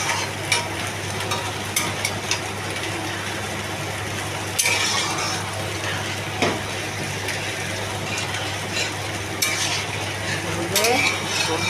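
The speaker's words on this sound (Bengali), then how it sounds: "জল দিচ্ছি" Water poured into a simmering curry pan and stirred, heard as a continuous close sizzle and bubbling with occasional spoon clinks and scraping strokes against the pan.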